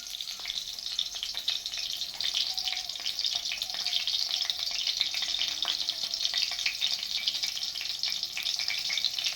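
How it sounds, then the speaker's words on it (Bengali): Steady, loud sizzling of eggplant slices frying in hot oil, a continuous crackling hiss with no voices. "এদিকে বেগুন ভাজা বসিয়ে দিয়েছি"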